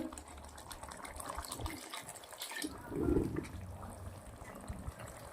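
Water is poured into a pan of spinach gravy, a short, soft splashing pour near the middle over faint background clatter in a quiet kitchen.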